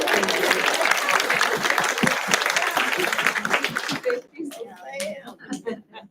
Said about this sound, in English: Just one more round of applause for him, please.